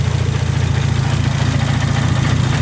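Car engine with a shaved, tucked engine bay and freshly repaired aluminum radiator idling while warming up, a steady, loud, close rhythmic rumble with even pulsing and no talk.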